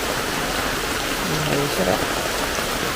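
Steady, dense rain pours down as an even hiss throughout, and a voice briefly speaks partway through.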